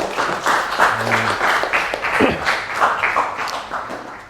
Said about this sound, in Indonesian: Oke, tepuk tangan untuk kita semua ya.